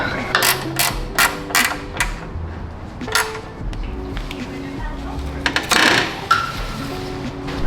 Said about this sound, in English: We're gonna rethread this hole.